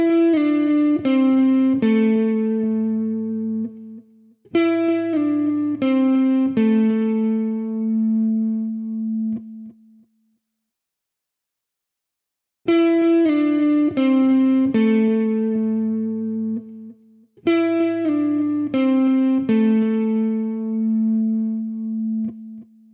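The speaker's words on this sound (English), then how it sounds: "And now let's look at a slide down to connect tones." Blues guitar phrases played with slides down to connect tones, sustained distorted electric notes gliding downward in two pairs of phrases separated by a short silence, clean and close with no talk.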